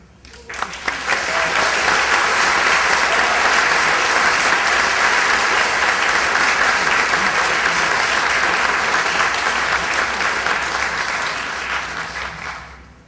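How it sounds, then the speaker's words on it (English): A large hall audience at the FinnFest 2011 opening ceremony breaks into sustained, loud applause that swells quickly, holds steady for about ten seconds, and tapers off near the end. "please give a warm round of applause for Consulate General Kirsi Wesphalen"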